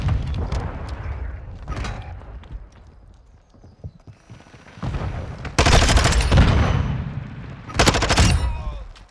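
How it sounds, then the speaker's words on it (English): A Semtex grenade blast in Modern Warfare 2, loud and broadband, going off after quieter footsteps and game noise, followed by a second sharp burst of gunfire or explosion near the end. "Let's throw that Semtex."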